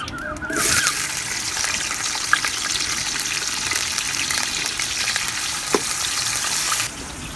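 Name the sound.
onions frying in cooking oil in a kadai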